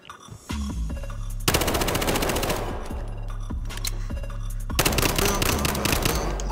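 Bursts of rapid automatic gunfire at a gun range in the video game Battlefield Hardline, loud and close, with a brief pause between volleys and dense firing that returns near the end.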